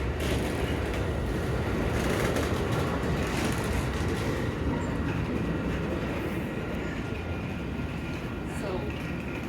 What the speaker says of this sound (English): Ready to pull out again. There goes the Amtrak.